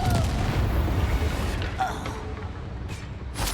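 Confringo fire spell cast in Hogwarts Legacy during a fight, a heavy booming blast amid continuous combat noise, with a short shout over it and a few sharp hits after.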